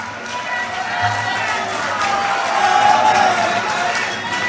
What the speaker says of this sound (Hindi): आप तो जोर से तालियां बजाने, हमारे माता बहनों ने।